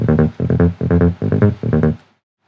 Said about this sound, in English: The original bass sounds something like this.